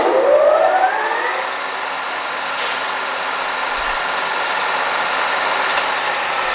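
A used 21"/29" x 60" Webb bed engine lathe spins up with a rising whine, then settles into a loud, steady high-speed drone with faint mechanical ticks.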